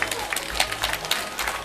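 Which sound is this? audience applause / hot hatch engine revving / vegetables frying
audience applause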